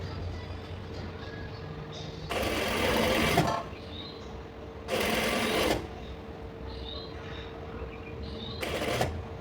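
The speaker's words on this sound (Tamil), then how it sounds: "இதை நம்ம அப்படியே மடித்து தச்சிடலாம்" Sewing machine stitching a folded fabric patch for simple patchwork, in three distinct bursts of rapid whirring separated by quiet pauses, close and fairly loud over a faint steady hum.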